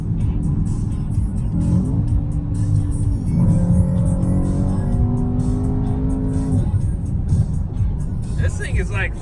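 Mercedes E63 AMG wagon exhaust revving up through gears under hard acceleration in sport mode, loud engine rising and dropping in pitch from inside the car, with people talking over it.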